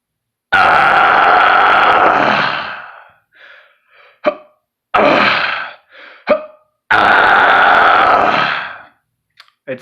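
A man demonstrates fry screams: three long, loud, gritty vocal bursts, with short breathy pauses and small clicks between them.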